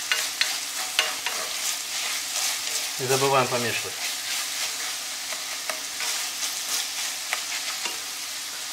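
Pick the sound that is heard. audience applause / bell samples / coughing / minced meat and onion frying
minced meat and onion frying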